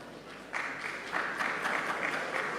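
Faint, distant audience applause at a Harlah 102 NU Kota Batam gathering rises in soft waves of clapping and holds steady for a few seconds, with no voices.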